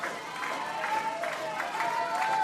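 Baseball fans of Tampa and Nova Southeastern cheering during an NCAA Tournament game, a distant crowd roar with scattered clapping and shouts, steady and moderately loud.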